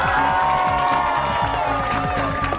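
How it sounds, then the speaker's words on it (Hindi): Studio audience on a Pakistani television talk show clapping and cheering together, a dense steady wash of applause and shouts that fills the whole moment, with music or tonal sound running underneath. "तो आप एग्री करते हैं तो दोबारा तालियां बजाएं"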